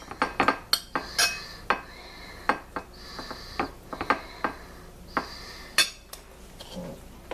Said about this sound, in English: A dab of mayonnaise in it. And stir it up.